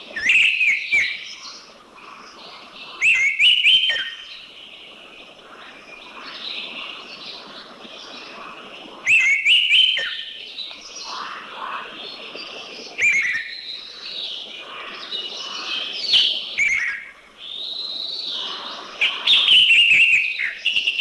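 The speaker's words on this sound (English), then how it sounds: "the orange-headed thrush" An orange-headed thrush sings in Thailand, clear loud whistled phrases repeated at intervals of a few seconds, with softer warbling notes between them, heard alone against a quiet background.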